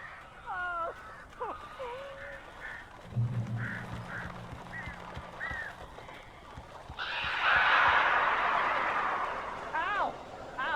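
Strange birds squawk and honk in the Alan Wake video game, their calls coming in bursts and sliding up and down against music and a voice that talks over part of the scene.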